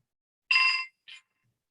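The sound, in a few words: old telephone bell ringing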